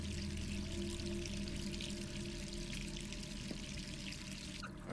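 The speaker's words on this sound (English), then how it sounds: "turn off that water" Water running steadily from a tap, a continuous faint rushing and pouring stream with a low hum underneath, unbroken for the whole stretch and with no voices.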